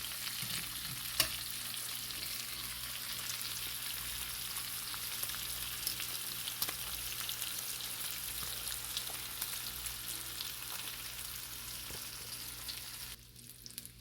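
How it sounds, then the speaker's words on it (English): Bacon sizzles and crackles on a non-stick griddle in a constant, dense hiss with scattered pops, close and steady throughout. "Listen to that sizzling."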